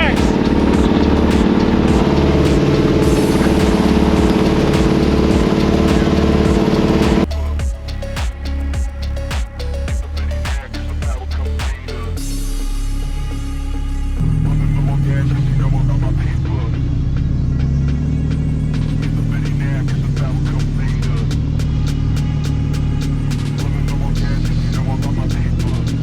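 A rear-steer rock buggy on snow tracks runs loud and close, its engine drone shifting abruptly as it drives through snow, with excited voices shouting over the machine.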